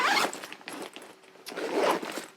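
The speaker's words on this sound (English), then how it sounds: "Let's zip that up and check it out." A zipper runs along a women's weekender travel bag in a steady, close, scratchy pull that rises and falls over about two seconds, with no talking.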